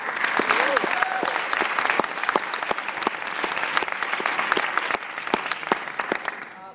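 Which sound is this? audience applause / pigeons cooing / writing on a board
audience applause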